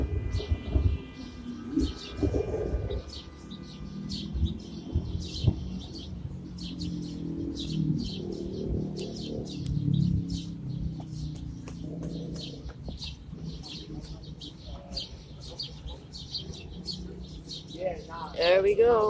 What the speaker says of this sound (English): There we go, lots and lots and lots of birds.